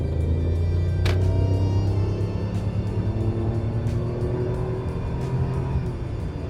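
A BMW E38 V12 with its transmission in sport mode accelerating hard, a loud, smooth engine roar rising in pitch with a gear change about a second in, heard from inside the car.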